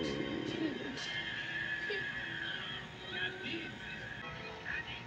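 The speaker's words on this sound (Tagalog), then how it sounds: "May kabayo pala dito." A horse whinnies over a busy Minecraft soundscape, the neighing layered with background music and effects throughout.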